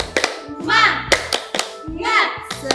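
Children at a Sunday school service clap a 'tepuk semangat' chant in quick rhythmic bursts, sharp claps grouped between short chanted phrases, fairly close and loud with young voices joining in.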